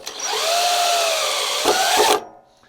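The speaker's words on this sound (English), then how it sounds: "Noise was from an 18-volt DeWalt NiCad drill." An 18-volt DeWalt NiCad cordless drill whirs loudly and steadily for about two seconds in a shop, its pitch briefly wavering near the end before it stops and the room falls quiet.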